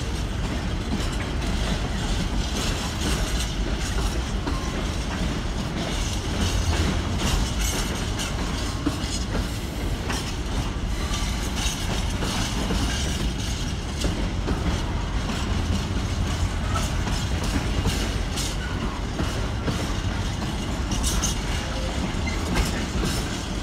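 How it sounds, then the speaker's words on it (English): A long freight train rolls through Leicester railway station in a steady, loud, continuous rumble with rhythmic wheel clatter that holds for the whole stretch. "Quite a long freight train"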